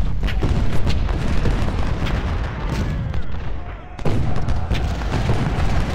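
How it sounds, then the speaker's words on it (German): Cannon artillery thunders in the Civil War strategy game Ultimate General: Civil War, a loud, dense barrage of overlapping booms with a brief lull before the firing resumes. "Gleich auch mit dieser Armee von Kanonen da"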